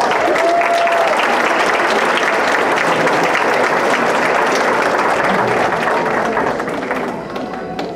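A fair pageant audience breaks into loud, dense applause that holds steady for several seconds before tapering slightly at the end, with some voices mixed into the crowd.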